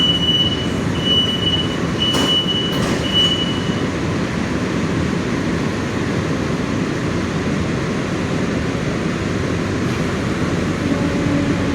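Air-conditioned EMU suburban train running between Mambalam and Tambaram, a steady low rumble of wheels and carriage with faint whines and brief squeals over a constant hum.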